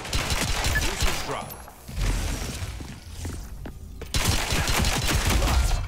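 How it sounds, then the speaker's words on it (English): Weapon reload in the shooter game Spectre Divide, mechanical clicks and clacks mixed into dense gunfire, a bursty loud exchange with short pauses, a voice speaking briefly underneath. "Gotta reload."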